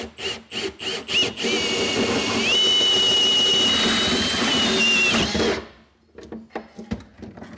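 A power drill bores a hole through the bed and bed liner of a 2022 truck while an underbed fifth-wheel hitch kit is fitted. A few sharp knocks lead into about four seconds of loud, steady, whining drilling, then the drill stops and scattered handling clicks follow.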